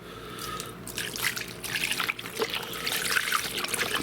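Beef broth pours into a large crock pot with a steady trickling, splashing liquid sound, continuous and close throughout.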